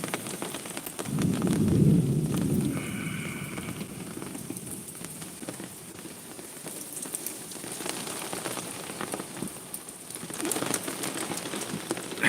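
Rain falls steadily on a surface throughout a thunderstorm, and a low rumble of thunder swells early on.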